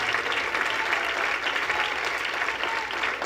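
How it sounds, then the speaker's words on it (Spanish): A church congregation gives a sustained round of applause for the Lord, dense even clapping filling the hall at moderate level without pause. "Alguien de veras le quiere dar un buen aplauso al Señor"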